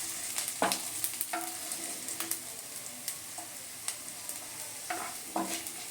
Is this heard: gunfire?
no